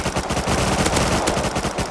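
Rapid automatic AK rifle fire in the Rust survival game, a dense sustained burst of sharp cracks running for two seconds, loud and close with no talking.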